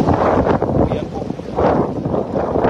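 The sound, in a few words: strong wind at sea while fishing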